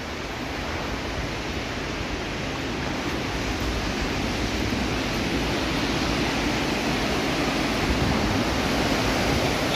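Sea waves washing over sand as the tide comes in on the coast near Laayoune, a continuous loud, broad rushing surf that swells slightly and never pauses, with no voices.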